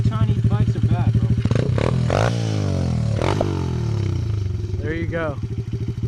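A Chinese pit bike engine runs close by with a steady buzzing drone and brief revs, while people talk over it.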